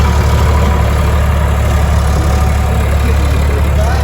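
A steady, loud low-pitched tractor engine idles continuously, a constant diesel rumble with no change in pace throughout.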